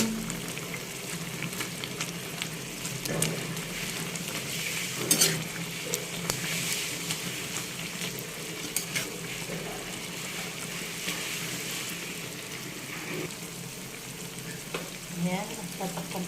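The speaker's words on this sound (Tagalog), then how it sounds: "Lagyan na po natin ang alugbati. Ayan, at haluin lang po natin." Malabar spinach frying with canned sardines in a pan, a continuous close sizzle with intermittent scraping and clinks of a utensil stirring through the mix.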